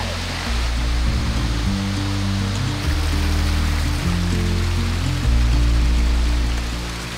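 A North Carolina waterfall rushes in a steady, loud, broadband roar, continuous and close.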